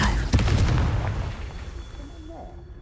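A Confringo blasting spell from Hogwarts Legacy goes off as a loud booming burst, with its heavy low rumble swelling in the first second and then slowly fading over the next two seconds.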